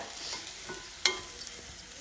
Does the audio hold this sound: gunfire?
no